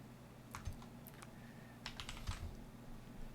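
Commands, including lsblk, are typed on a computer keyboard during an Arch Linux install. Quiet, close keystrokes come in short clustered bursts with brief pauses between them.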